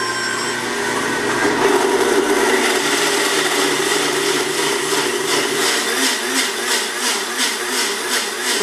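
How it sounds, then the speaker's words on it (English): A Blendtec blender whirs steadily at high speed on the smoothie setting with a glass mason jar fitted via an adapter, a loud, continuous grinding drone that holds for the whole stretch with slight pulsing near the end. "Blender is on."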